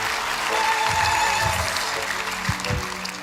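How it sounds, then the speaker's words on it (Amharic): A church congregation claps steadily for the Lord at an Ethiopian gathering, a sustained wash of applause that tapers off, with a few louder thumps near the end. "አጨብጭቡ ለጌታ ክብር።"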